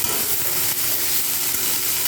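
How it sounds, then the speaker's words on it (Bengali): Pumpkin greens and pumpkin flowers frying in hot oil in a pan, a steady bright sizzle with occasional stirring scrapes, close and continuous with no talking. "শাকের সাথে ফুলটাও কিন্তু আমি ভাজা করে নিচ্ছি।"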